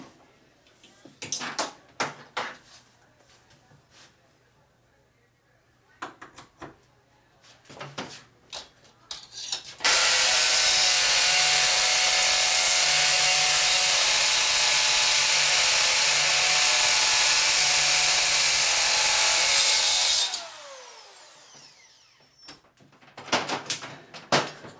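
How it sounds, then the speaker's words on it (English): A hammer drill boring a hole into a shop wall, a harsh, loud continuous grinding roar lasting about ten seconds, framed by clattering, handling knocks and tool noises before and after. "You can do it on the hammer drill."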